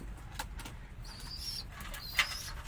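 Racing pigeons heard faintly in a quiet setting, with a few soft chirpy calls, light rustling and a brief flutter of wings over low background noise.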